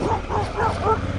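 A pit bull barks in a few short, closely spaced yips and woofs at middle distance, over the steady rumble of a rider's surroundings on a gravel road.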